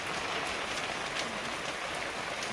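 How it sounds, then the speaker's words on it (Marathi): Steady rain falls continuously in a village setting, a dense even patter with no voices. "अखेरला पाऊस वाढला आहे"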